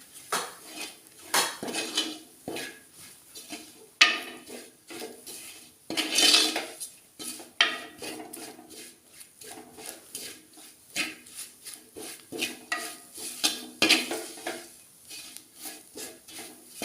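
Sardine curry masala stirred in a pot, with a metal spoon scraping and clinking against the pot in a steady, busy rhythm, close and loud, with no talk.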